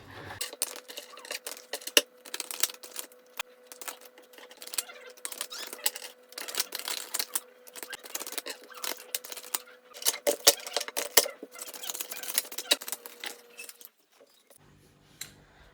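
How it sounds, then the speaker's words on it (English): Continuous crisp rustling and flicking of tarot cards being shuffled, in rapid bursts with brief pauses, fairly close, with a faint steady hum underneath; it ends quietly. "I'll start with shuffling your cards"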